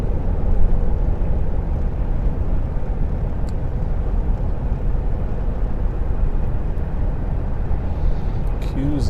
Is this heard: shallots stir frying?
no